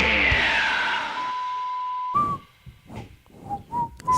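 A person whistles a wavering tone that holds steady, then a few short rising and falling whistled notes follow after a brief pause, fairly close and clear.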